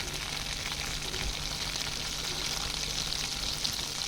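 Butter simmering into homemade ghee gives off a steady, dense sizzle and crackle of frying fat, even and continuous throughout with no voices.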